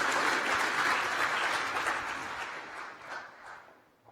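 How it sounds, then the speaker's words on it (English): An audience at a cybersecurity conference keynote applauds, a dense patter of many hands clapping at moderate distance that fades out toward the end. "Another round of applause for Martin."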